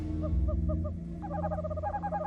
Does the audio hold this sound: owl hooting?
yes